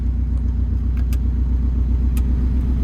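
2008 Subaru STI idling with its exhaust running close by: a steady, deep, rumbling burble held at constant volume for a few seconds, with faint light ticks over it.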